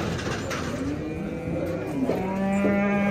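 Cattle moo repeatedly at a busy livestock market, long low calls rising over a dense crowd murmur and trading chatter in the background.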